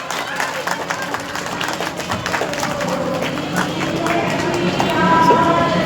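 An audience claps at an Uttarakhand Foundation Day event, a dense, continuous patter of hands with crowd murmur and voices underneath, growing slightly louder toward the end.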